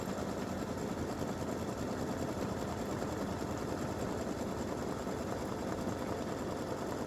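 An embroidery machine sewing a satin stitch on a tic-tac-toe game piece hums in a steady, even mechanical drone throughout, with no one speaking.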